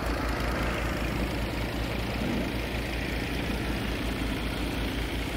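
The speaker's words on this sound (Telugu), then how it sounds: "ఇప్పుడు ట్రాక్టర్స్ రన్ అవుతుంది." Tractor engines running at a site being pumped dry of floodwater produce a loud, steady low diesel rumble with a continuous throbbing drone and no pauses, close by, with no voices.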